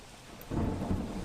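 Heavy monsoon rain in Surat district with a rumble of thunder, flooding the highway, starting quieter and swelling into a dense, steady roar about halfway through.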